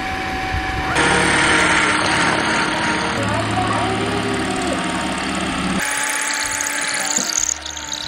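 A power drill bores into a concrete wall while installing a pool clothesline, a loud sustained whine that shifts pitch partway through as the bit bites harder.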